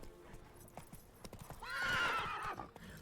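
Geralt's horse Roach from The Witcher 3 clops along in quick hoofbeats, then lets out a loud, drawn-out neigh before the hooves continue.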